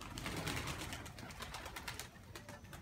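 A pigeon by a pigeon loft coos softly, set against a busy outdoor background of sharp bird calls and chirps from other birds nearby, steady and fairly faint, with no talking.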